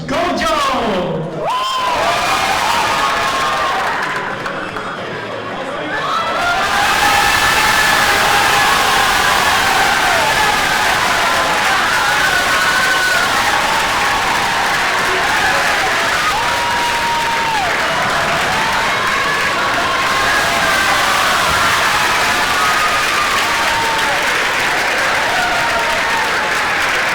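Audience at a cabaret show applauding and cheering loudly and steadily after a brief quiet gap, with shouts and whoops from the crowd and voices through much of it.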